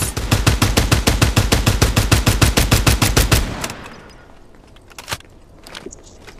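Rapid automatic gunfire from the video game Farlight 84 rattles in a loud, steady stream of about two dozen evenly spaced shots, then stops abruptly, leaving scattered faint game sounds and a few soft clicks.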